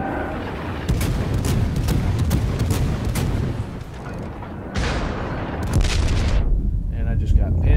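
Naval gunfire in World of Warships, heard as dense, loud rolling booms and crackling shell blasts that run almost continuously, with a short lull before another heavy barrage.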